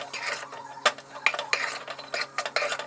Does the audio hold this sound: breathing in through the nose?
no